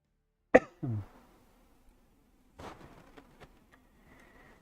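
A person coughs in a few short, sharp bursts near the microphone, with a quieter gap and some faint clicks and rustling in between.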